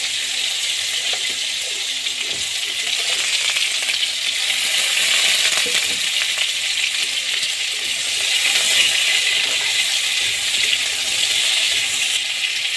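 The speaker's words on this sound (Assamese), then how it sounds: "এতিয়া মই ৰঙালাও আৰু আলুটো ভাজি লওঁ অলপ" Chopped onion and potato sizzle in hot oil in a home kitchen, a loud continuous crackling fry with scattered pops and the odd stir or clink, rising and falling gently, with no talking.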